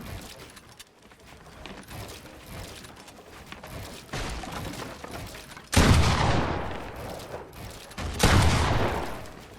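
Gunfire in a building video game: several loud, close bursts of shots, the heaviest coming in two sharp clusters near the end over a lower background of game noise, with no talking.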